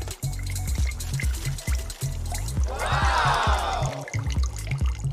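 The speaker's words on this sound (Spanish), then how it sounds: "pero cuidado, se está derramando el agua" Water trickling and splashing from a cup with a hole, set against a steady low hum and rhythmic background music; a brighter pouring swell rises midway and then fades.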